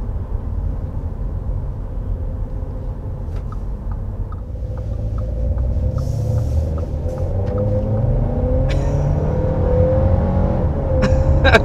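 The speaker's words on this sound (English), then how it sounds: "it's always had plenty of power for this size of vehicle to really get it off the line quite quickly." A 2022 Audi A3 pulling away hard from a stop, its engine note rising steadily in pitch through a single gear over a continuous low road rumble, heard from inside the car with no talking.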